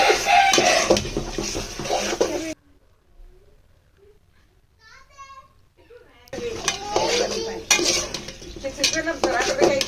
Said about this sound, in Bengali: মূলা তারপরে হচ্ছে গাজর কপি আর হচ্ছে পেঁয়াজের পাতা এগুলো একসাথে দিয়ে তারপরে ভালো করে কষিয়ে নেব